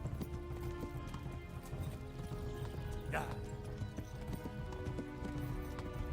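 A horse gallops in Kingdom Come: Deliverance, a steady rhythmic clip-clop of hooves under game ambience, with a brief whinny partway through and someone talking over it.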